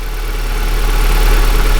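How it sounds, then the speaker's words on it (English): A 1990 Nissan 180SX Turbo, a Japanese auction import, idles with a steady, rough-sounding low rumble at close range, continuous and without talk. "my camera's going to make this engine sound rougher than it actually is"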